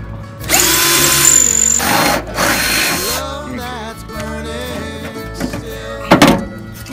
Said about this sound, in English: we're going to drill out these rivets